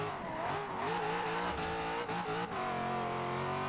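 A Z06 Corvette in Forza Horizon 3 drives with a steady engine drone and tire squeal, the pitch shifting as it turns, loud and continuous throughout.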